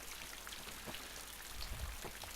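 Rain falls steadily in the Garry's Mod DayZ mod game, a soft continuous patter with scattered drop hits and a slightly heavier swell near the end, with no voices.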